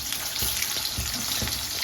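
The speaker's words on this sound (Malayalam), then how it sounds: "സവാള വറക്കാൻ പോയി" Onions frying in a pan for biryani, a steady close sizzle with soft crackling and a few brief stirring bumps, no voices.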